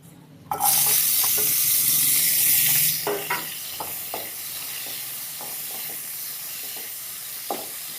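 Dried fish (shutki) hitting hot mustard oil in a kadai sets off a loud, bright sizzle that holds for a few seconds, then settles into a steadier, softer frying hiss broken by occasional stirring clinks.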